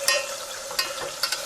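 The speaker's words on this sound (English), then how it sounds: "So you just get it up sizzling a little bit" Garlic and olive oil sizzle gently in a pan, a steady close hiss broken by a few sharp crackles and light clicks of utensils, with no voices.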